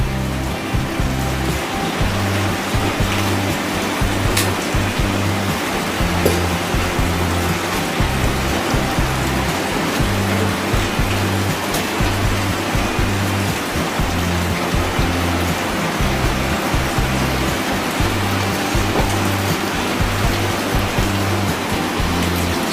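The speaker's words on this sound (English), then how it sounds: "just watch it rain." Steady rain falls beside a porch next to a fireplace, a dense continuous hiss with a low rhythmic patter of drips underneath, even and unbroken throughout with no voices.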